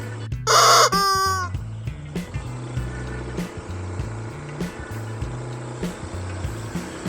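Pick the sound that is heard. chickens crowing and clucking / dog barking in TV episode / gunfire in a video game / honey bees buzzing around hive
chickens crowing and clucking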